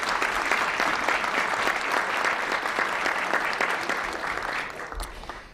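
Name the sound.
audience applause at press club luncheon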